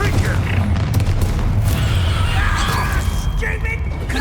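Spell blasts and booming impacts in a Hogwarts Legacy troll battle, a dense, continuous roar of explosions and combat noise with shouting voices mixed in throughout.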